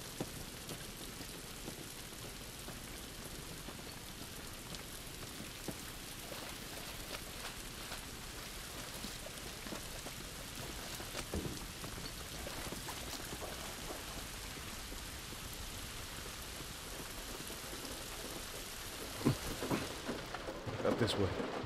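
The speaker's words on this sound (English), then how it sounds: "This rain ain't gonna do us any good." Steady rain pours down in the video game The Last of Us, a constant dense hiss with low rumbles of thunder rolling underneath and a few sharper splashes near the end.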